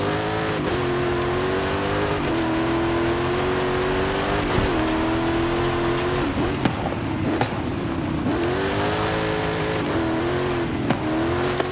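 A race car engine in the Forza Horizon video game, loud and continuous, revving up and shifting through gears with rising and falling pitch, plus brief tire noise, no talk.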